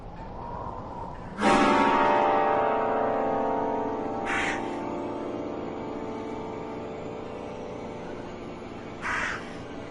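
Crows caw in the eerie game The Last Door, one loud harsh call ringing out close and lingering, followed by two fainter, shorter caws spaced a few seconds apart.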